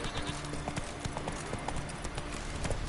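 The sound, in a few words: horse Roach trotting, from a video game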